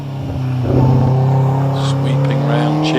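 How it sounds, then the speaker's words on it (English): A Vauxhall-powered Westfield SEI races up the Harewood hillclimb course, its engine droning loudly as it revs and shifts through the bends, with a commentator talking over it. "Tim off and running, Tim the taxi, Vauxhall powered Westfield SEI, Tim down into the S's already."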